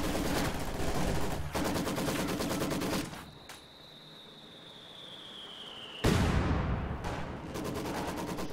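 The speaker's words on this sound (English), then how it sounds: "We're taking small arms fire!" Rapid small-arms gunfire in a war video game, with dense loud automatic bursts, a quieter lull carrying a thin whistling tone, then another heavy burst of shooting.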